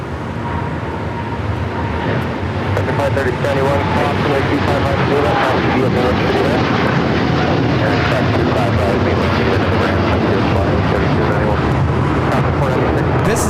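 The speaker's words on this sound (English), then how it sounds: "This is United Airlines Flight 39 taking off to Tokyo, Haneda on the 787-10 Dreamliner." A United Airlines Boeing 787-10 Dreamliner takes off at LAX with a loud, sustained jet engine roar that swells and holds throughout, while people talk over it.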